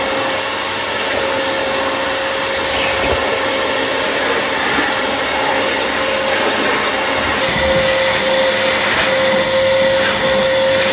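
Parkside carpet shampooer vacuuming, a loud continuous motor roar with a steady whine that holds unbroken throughout, with no talk over it.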